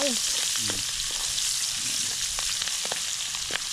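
Garlic and onion fry in a generous pool of oil over an outdoor fire, a steady dense sizzle holding throughout with a few scraping stirs breaking through near the end.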